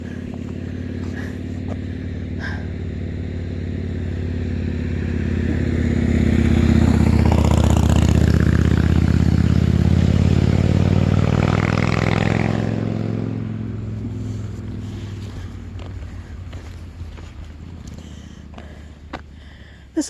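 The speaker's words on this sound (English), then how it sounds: "like a motorcycle is right now." A motorcycle passing on a road by a slate history trail in Bomoseen State Park, Vermont, its engine drone swelling as it approaches, peaking loud at mid-pass, then fading steadily into the distance.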